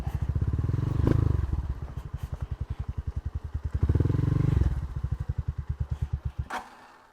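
A motorcycle engine putters rhythmically up close, revving up twice before easing down and cutting off at the end.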